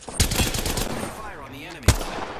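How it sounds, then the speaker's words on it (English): Gunfire in the Apex Legends video game: two sharp, loud shots about a second and a half apart, with a voice and game noise in between. "I'm taking shots."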